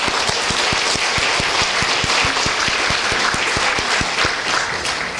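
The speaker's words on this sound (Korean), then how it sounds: "우리 하나님께 영광의 박수를 한번 드리겠습니다." Sustained applause from a congregation at a church New Year's Eve worship service, dense rapid clapping that stays steady and loud throughout.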